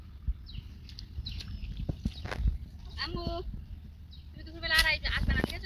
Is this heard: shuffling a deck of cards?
no